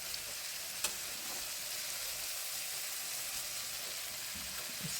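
Flour stirred into a pan of hot fat for biscuit gravy, giving a steady, close sizzle with soft stirring scrapes and a single sharp tap near the start. No voices.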